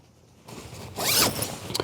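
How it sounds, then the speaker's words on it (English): Zipper on camping gear pulled closed during a motorcycle camping trip with a 2019 Honda Super Cub, one quick close rasping zip after soft handling noise, then a short tug at the end. "before I throw everything or zip everything up and put it all away"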